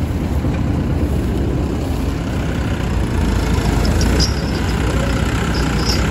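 A Sonalika tractor engine idles nearby on a Punjabi farm, a steady low rumble running unbroken and fairly loud throughout, with no talk over it.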